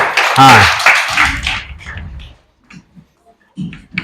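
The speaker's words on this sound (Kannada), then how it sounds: "ಚಪ್ಪಾಳೆ ಹಾಕೋನಿಗೆ." Schoolchildren clap for a classmate in a classroom, a loud burst of mixed clapping and voices at the start that fades within about two seconds, followed by quieter scattered talk.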